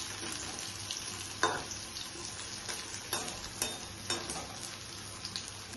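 Soyabean koftas fry in hot oil in a pan, a steady dense sizzle broken by periodic scraping stirs and light clinks of a utensil, close and alone with no voices.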